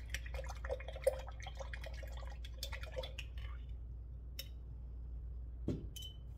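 An acrylic paintbrush is swished and tapped in a water jar to clean it, a run of small wet clinks and drips that thins out into quiet, with one last louder knock near the end.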